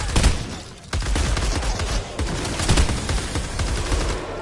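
Rapid booming cannonball shots fire in a dense volley in a PC game, continuous and loud with crackling impacts.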